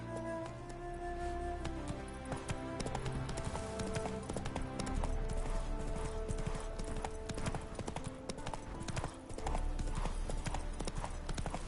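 A horse's hooves clip-clop at a steady riding pace in The Witcher 3 video game. The rhythm is continuous and even, set over a dense layer of ambient game sound.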